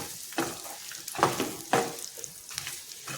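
Garlic chutney with chili powder is stirred in a pan, three or four thick wet scraping strokes over a soft background sizzle, close and moderately loud with no talking.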